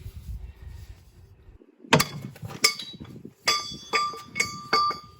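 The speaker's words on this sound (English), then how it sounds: "With the lock nut reference marked, I can now get a spanner on there." An adjustable spanner levered with a scaffold pole works a lock nut on a Ford Transit track rod end, giving sharp metallic clanks and ringing knocks, several spaced strikes heard close after a quiet start.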